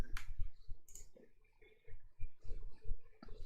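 A computer keyboard clicks in quick, irregular bursts of soft keystrokes, close and fairly quiet, with brief pauses between clusters of taps.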